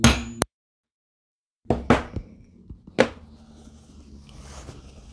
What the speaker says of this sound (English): Grab your rod with the curved end and place over the rivet and hammer well.